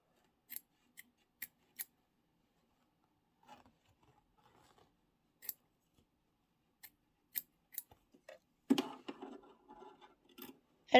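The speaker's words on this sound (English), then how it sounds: "I'm just using my snips." Sewing snips cut thread in a series of short, crisp clicks spaced around a second apart, close and quiet, with a brief soft rustle of fabric in the middle and a busier cluster of snips and handling near the end.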